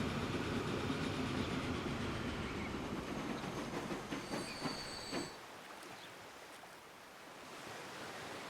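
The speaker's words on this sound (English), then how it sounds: "I think that was one of the other trains, wasn't it?" A train rolls past in the Transport Fever 2 game, a steady rumbling roar with brief wheel squeals before it fades out, leaving a quieter ambient background.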